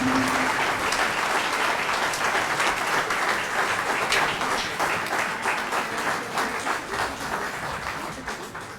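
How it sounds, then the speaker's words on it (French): A concert audience applauds loudly and steadily, a dense wash of clapping that fades slightly toward the end. "Allez, on les applaudit encore bien fort."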